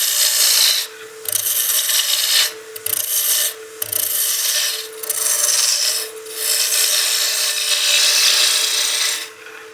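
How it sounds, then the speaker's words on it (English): A roughing gouge bites into a spinning wooden baseball bat blank on a lathe, producing loud raspy shaving bursts in repeated passes, separated by short pauses as the tool is drawn back. "So we're going to keep roughing this down and around, getting this closer to that 1 inch diameter."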